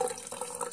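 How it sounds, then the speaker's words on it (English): Cold tap water runs steadily into a sieve in a kitchen, a brief continuous splashing rush with no talk. "So I'm going to add cold water to enable to aid the separation process."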